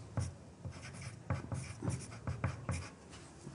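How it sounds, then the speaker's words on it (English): Pen writing names on a paper card, a close scratchy stroking in short irregular bursts with brief pauses between words, quiet and alone. "put my name and my partner's name on my card"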